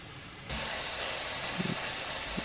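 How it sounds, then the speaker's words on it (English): A sudden burst of hissing sizzle starts and continues steadily, with a few faint clinks underneath. "They're sizzling."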